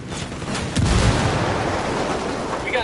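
A grenade explodes in Ghost Recon Wildlands with a heavy, close boom that swells about a second in and rumbles on amid gunfire-like crackle, loud and dense to the end.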